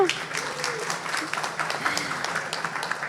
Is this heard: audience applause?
yes